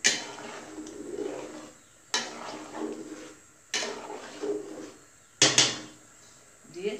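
A cooking pot on a stove is covered with its lid while making chicken tehari, giving four sharp metallic clanks spaced a second or two apart, the last one a quick double knock, over a low steady background.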